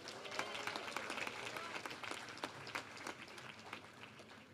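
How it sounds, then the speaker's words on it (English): Graduates at a university commencement ceremony clap together in sustained, dense applause that fills the hall, rising and falling slightly with scattered sharper claps and no voices on top. "give yourselves a round of applause"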